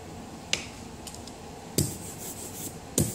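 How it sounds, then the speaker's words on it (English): An inked brayer rolls over a telephone book during paper lithography, giving three sharp rasping strokes spaced about a second apart, with soft rubbing between them and no talk. "I'm going to take the brayer and I'm going to roll the excess ink off on a telephone book"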